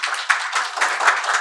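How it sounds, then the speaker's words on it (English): Audience applause at an SME business forum, a steady wash of many hands clapping that carries through the whole moment without a break and swells slightly near the end. "Please round of applause for all the speakers."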